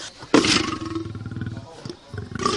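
A lion at the Giza Zoo lets out a loud, close roar that breaks into a run of rhythmic pulsing grunts, then starts another roar at the end.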